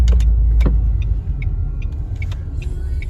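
Renault Megane 1.3 TCe car driving on the road, heard as a steady, loud low engine and road rumble throughout, with a few faint clicks and ticks above it.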